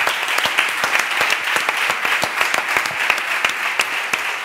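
A seated audience at an education event gives strong, sustained applause, dense hand clapping that holds steady and loud from start to finish.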